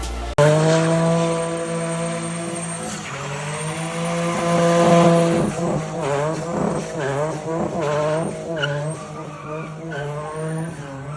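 A Nissan 350Z sports car engine, turbocharged, roars at steady revs, then rises and falls through sharp accelerations, loud and close, with tires squealing.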